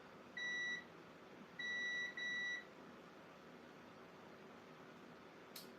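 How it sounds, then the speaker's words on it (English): Short electronic beeps from test equipment during laptop board repair on a WinBook XP, one tone then two more in quick succession, clear above a steady hiss of background noise. "Where was that beep coming from?"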